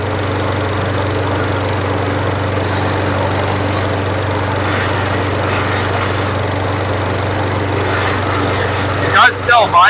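A cheap gas lawnmower engine running steadily with a strong low hum and heavy vibration, loud and close, ending in a few rattling clatters.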